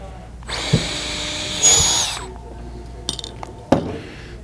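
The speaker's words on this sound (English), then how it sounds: "take the screws out." Power drill backing screws out of a wooden lathe chuck in a woodworking shop: a short whirring burst, then a longer higher whine, followed by light clinks and taps of screws and parts, close and alone.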